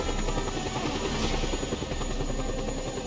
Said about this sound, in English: Okay, just gonna hijack the helicopter,